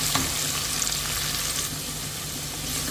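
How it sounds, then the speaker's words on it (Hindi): Onions softening in a pan for a mutton stew, a steady close sizzle with light stirring scrapes throughout, no voices. "इसे बीच बीच में हमें चलाते रहना है, नहीं तो ओनियन नीचे बैठ जाएगा"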